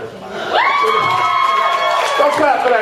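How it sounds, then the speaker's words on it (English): A comedy-show audience roars with cheers and whoops, a loud, dense burst of crowd noise that swells quickly and holds steady for a few seconds, with scattered shouts rising above it. "Don't clap for that shit."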